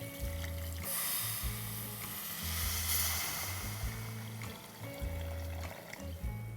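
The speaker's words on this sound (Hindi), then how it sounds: "अब इसके अंदर जाएगा ढेर सारा पानी।" Plenty of water pours into a pan of potatoes lightly fried with a hot tempering for a Hindi-style aloo sabzi, giving a loud, hissing sizzle and a steady splashing pour that continues without a break.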